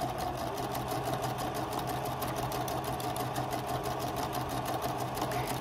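A sewing machine stitching a piped seam runs steadily at close range, with a fast, even mechanical whir and rapid ticking needle strokes, uninterrupted throughout.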